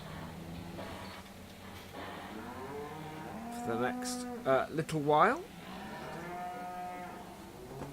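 Cattle in the Farming Simulator 17 game let out a few close, drawn-out moos in a cluster midway, over a quiet farm background, with someone speaking briefly nearby.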